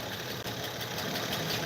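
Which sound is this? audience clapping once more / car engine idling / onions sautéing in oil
car engine idling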